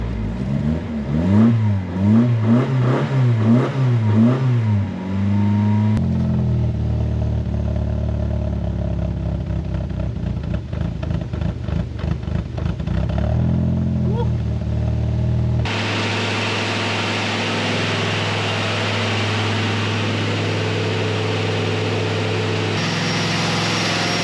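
A Nissan SR20 engine in an N14 car with upgraded cams revs hard on a dyno, loud and close, climbing and dropping through repeated throttle blips, then holding steady pulls with a sustained roar, no talking.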